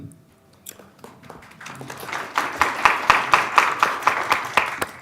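Applause for elementary school principals at a Board of Education meeting, starting with a few scattered claps and swelling into steady, dense clapping from a sizable audience that holds through the end.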